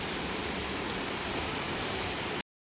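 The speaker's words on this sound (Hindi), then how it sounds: "देखो कितनी बारिश हो रही है" Heavy rain falls steadily in a dense, even hiss across the whole stretch, loud and close, then cuts off abruptly.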